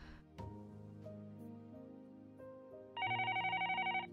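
A telephone rings in the Higurashi visual novel: soft background music plays, then a loud, rapidly pulsing electronic ring cuts in and repeats steadily to the end.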